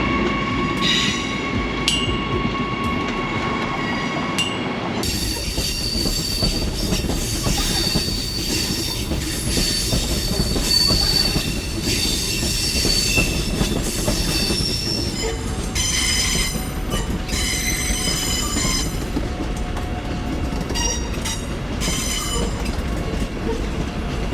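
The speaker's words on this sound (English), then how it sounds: "do a quick recording of the trains and that going past" Trains roll past at a busy main railway station with loud, continuous rumbling, shrill squealing wheels and clickety-clack over the rails, the metallic screech rising and falling as carriages pass close by.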